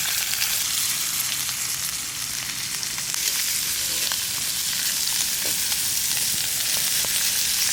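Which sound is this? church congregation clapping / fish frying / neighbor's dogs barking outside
fish frying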